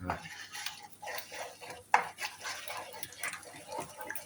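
A spoon stirs and scrapes across the bottom of a non-stick pan on a gas stove while cured pork shoulder steak fries. Rhythmic scraping strokes and light clinks repeat close up over a faint sizzle.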